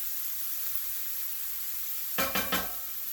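Pork fried rice being stir-fried in a pan: a steady, quiet sizzle runs throughout, then a few quick scraping stirs of the spatula near the end, close and clear with no talking.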